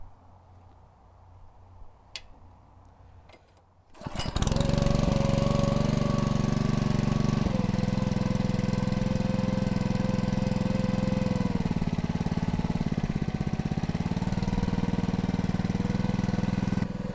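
Split-Fire 2265 log splitter engine starting up and running steadily at low throttle, a loud close drone with slight pitch shifts, preceded by a few quiet seconds of handling noise.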